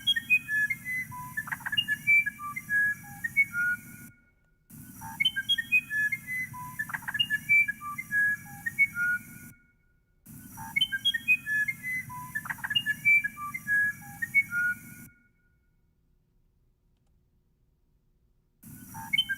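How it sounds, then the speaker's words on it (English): A wood thrush sings in clear, fluting phrases of several notes each, repeated three times with short silent gaps between them over a steady low background hum. "And here is the wood thrush."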